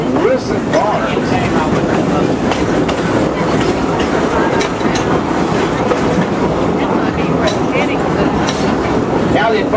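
A Frisco Silver Dollar Line train rolls along the rails with a loud, continuous rumble and a steady clickety-clack of wheels, close and unbroken, with no talking.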